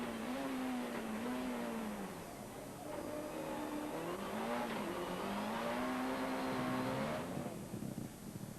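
Rallycross cars race flat out around Pembrey circuit in a 1997 British Rallycross Championship round, engines revving hard and rising and falling in pitch as they blast down a straight and through a right-hand bend, loud and continuous with no talk.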